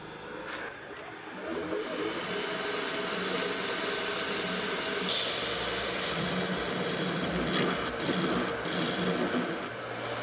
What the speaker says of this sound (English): it's time to take the second piece of this blank and shape it up for the bottom